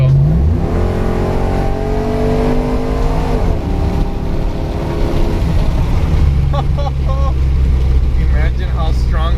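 A cammed 5.3 V8 on 4.56 gears revs and pulls hard, its loud lumpy exhaust note climbing in pitch, dropping at a shift and climbing again, with someone talking over it near the end.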